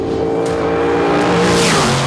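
Carl Boniface's Nitro Flashback Funny Car roars loudly up close on a spirited exhibition pass, a sustained nitro engine howl with rising pitch, continuous and unaccompanied.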